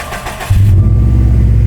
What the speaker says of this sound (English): let's turn the fucking car right on